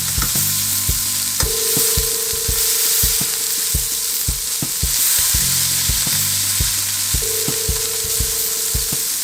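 Burgers for White Castle-style sliders sizzle loudly on a hot griddle while a spatula presses and scrapes them, with repeated sharp metallic clacks over a constant frying hiss.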